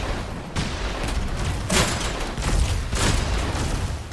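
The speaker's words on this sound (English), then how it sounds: "Okay, scrap turret's working well. Scrap turret's keeping them in there." A scrap turret fires at enemies in the Hostile Mars video game, with several scattered bursts of gunfire standing out over continuous noisy game sound.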